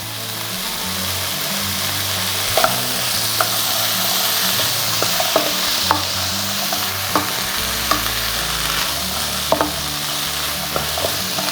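Prawns with salt frying in a pan for a Kerala-style achinga mezhukkupuratti, loud constant sizzling broken by repeated scraping stirs and spatula clinks, no voices.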